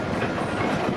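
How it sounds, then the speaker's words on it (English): A CPKC freight train, symbol 113, running between Montreal and Vancouver, rolls past steadily and close at hand, a dense continuous rumble of cars over the rails with no break and no voices. "symbol on this train is CPKC 113"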